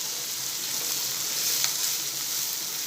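Onions frying over high heat in a pan for vegetable Chinese fried rice, giving a steady, close hiss of sizzling oil that holds even throughout with no one talking.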